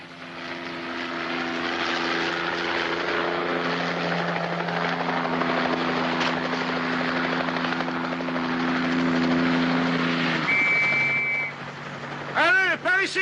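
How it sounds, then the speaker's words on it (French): A helicopter approaches, its steady droning rotor and engine hum holding loud for several seconds before shifting and fading, followed by a brief high whine and a few pulsing sweeps at the end. "Regarde, l'hélicoptère."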